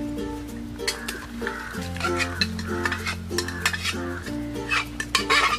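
Chopped banana stem added and stirred into a lentil curry in a pot, with a close sizzle under clattering spoon strokes and metal clinks against the pot, and steady music playing underneath.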